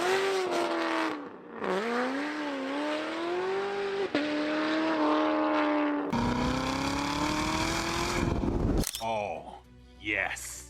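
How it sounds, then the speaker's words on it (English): A 2019 Chevrolet Corvette ZR1 C7 with a 755-horsepower engine roars loud and close, its pitch sweeping up through the gears in long sustained pulls, with a brief drop between shifts and a sharp change near the end. "an engine that roars like a war machine"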